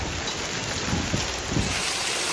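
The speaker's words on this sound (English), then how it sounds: "Now we have straight hail." Hail falls outside during a storm in Las Vegas, a dense, steady hiss of pellets striking surfaces with faint low rumbles, continuous and unbroken.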